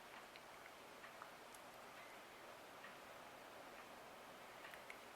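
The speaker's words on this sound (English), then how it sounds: "I can hear it raining." Steady rain patters down in a soft, even hiss, with scattered light ticks of drops landing nearby.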